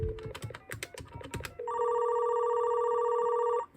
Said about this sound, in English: This phone gets a ringback signal. This phone rings.